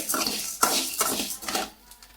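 Black kavuni rice dry-roasting in a pan, popping and crackling in quick, irregular bursts with scraping against the metal, close and moderately loud before fading at the end.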